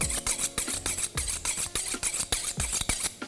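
A sharp knife sawing a rested tomahawk steak off the bone: steady rhythmic rasping strokes close by, each with a soft scrape against bone and board.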